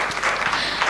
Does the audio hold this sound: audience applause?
yes